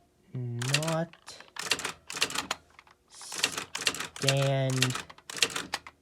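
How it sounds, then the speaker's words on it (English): Keys clatter on a computerized typewriter, a quick run of clicks and key strikes sitting under a person talking throughout. "typing with only one hand, and while filming yourself typing is quite difficult"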